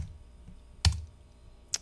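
Two sharp, isolated key presses on a Mac computer keyboard, crisp and close, separated by a quiet pause with faint low background hum.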